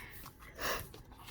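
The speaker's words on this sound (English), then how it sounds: "I still have the sniffles" A single short, quiet sniffle from someone with allergies, heard up close as a brief nasal inhale in an otherwise quiet room.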